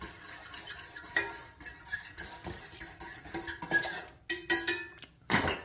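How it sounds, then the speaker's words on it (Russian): A spoon stirs barley porridge in a pot, making close, irregular scrapes and soft clinks against the metal with brief pauses between strokes. "Чуть-чуть помешаем."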